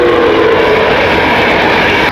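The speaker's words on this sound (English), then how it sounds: "Another train." Passing train near fishing pits, a loud continuous rushing rumble with rattling wheels that holds steady throughout.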